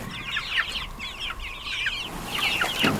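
Cornish cross meat chickens cluck and chirp in a steady, busy chorus of overlapping calls close by, continuous across the whole stretch with no talking.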